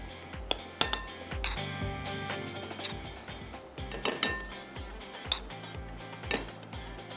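Metal spoons clink and tap repeatedly against a bowl as cornflour is spooned in, irregular bright clinks over a soft background hum, close and moderately quiet with no talk.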